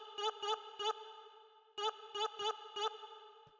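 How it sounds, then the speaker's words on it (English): A short vocal stab sample triggered from a sampler in a lo-fi house track, sounding as two groups of three sharp, bright, identical hits with a clear pitched tone and a short tail, isolated and upfront. "the next thing we have here is this little vocal stab"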